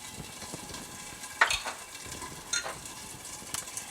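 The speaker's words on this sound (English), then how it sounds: "And we'll just keep whisking this." Four egg yolks with a tablespoon of lemon juice are whisked in a bowl, giving faint, soft scraping and clicking strokes with a few sharper taps, quiet and close with no voices.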